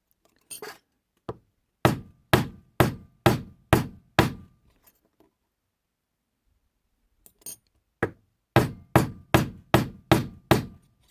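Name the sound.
hammer tapping metal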